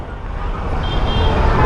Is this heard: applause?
no